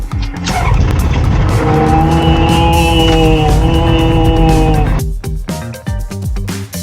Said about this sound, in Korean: 엔진 스타트.